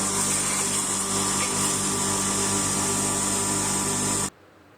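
Flour mill grinding roasted black masala spices, a loud, steady mechanical whine and drone that cuts off abruptly near the end.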